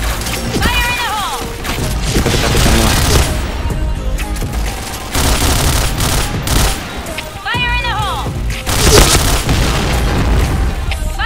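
Point Blank video game combat, with loud repeated booming bursts and gunfire-like crackle running throughout, plus interface beeps; a player talks over the action.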